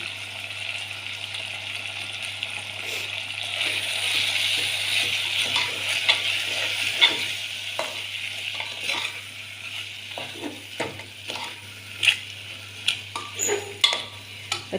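Cluster beans and potatoes sauté in a hot pan for a Kathiyawadi curry, giving a steady close sizzle with scrapes and taps of a spoon or spatula stirring against the pan, and no talk.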